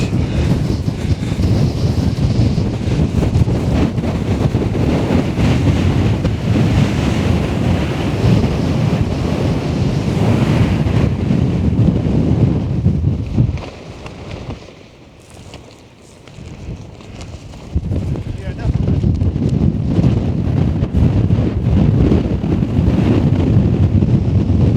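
Strong wind buffets the microphone on a rocky coast in a heavy, roaring rush that drops briefly before gusting back at full force, with surf-like noise underneath and no voices.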